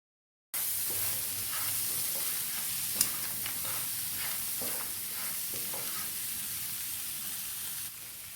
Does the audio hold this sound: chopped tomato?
yes